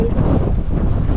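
Strong wind buffets the microphone on a small fishing boat out on open water, a loud, steady low roar with gusty rumble and no voices for the whole brief moment.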